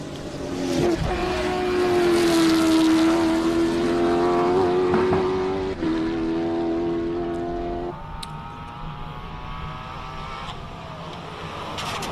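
A race car on a hillclimb run at Simola: a loud, sustained engine note that climbs and holds, then drops off as the car pulls away, leaving a fainter drone.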